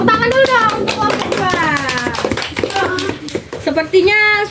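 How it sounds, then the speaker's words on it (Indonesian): Children's voices chatter and call out while hands clap in quick, uneven bursts nearby. "Tepuk tangan dulu dong untuk kelompok"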